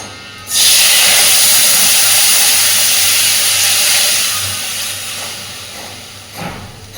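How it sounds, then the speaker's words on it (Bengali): Fish curry poured slowly into a hot wok, setting off a sudden loud hiss that holds steady, then fades gradually toward the end. "আস্তে আস্তে করে পুরো মাছের ঝোলটা কড়াইতে দিয়ে দিয়েছি"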